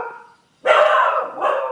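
Several dogs bark in short, loud bursts close by, with a brief quiet gap before a sustained volley and then another bark.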